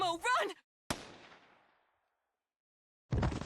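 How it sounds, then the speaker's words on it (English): A single sharp gunshot in the video game Anonymous;Code, a loud crack followed by a decaying reverberant tail, set between brief stretches of spoken dialogue. "A gunshot."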